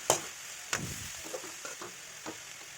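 Green cheera spinach stir-fry being tossed in a pan, with a few sharp scrapes and clinks of the spoon against the pan over a faint sizzle, spaced irregularly and fairly quiet.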